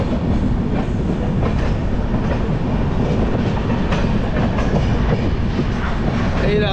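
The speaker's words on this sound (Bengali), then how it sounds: "এই রাজধানী সবে যাচ্ছে বর্ধমান ছেড়ে" Sealdah–New Delhi Rajdhani Express train leaving Bardhaman: a loud, steady rumble of wheels and carriages, with faint rhythmic clatter throughout.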